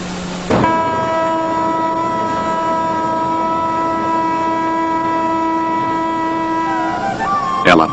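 An Indian railway locomotive sounds a long, sustained, loud horn blast over the rumble of a moving train, and the tone bends and shifts just before it ends.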